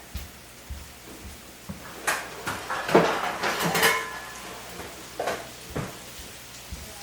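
Pork chops and apples sizzling in a skillet: a steady crackling hiss throughout, with louder clatters of pan and utensil handling in the middle, close and without talk.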